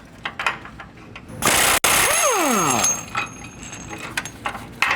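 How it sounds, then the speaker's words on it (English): A ratchet with a socket works a lift kit bolt up inside a frame pocket on a 2020+ GM 2500 pickup, giving close metallic clicks and scrapes with a loud burst of mechanical noise partway through. "You just get your ratchet and your socket up into that pocket."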